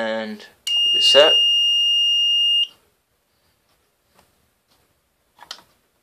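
A Fire-Lite MS-4 fire alarm panel gives a single sustained electronic trouble tone lasting about two seconds, preceded by a brief voice, followed by near silence and a faint click, then a short soft burst at the end.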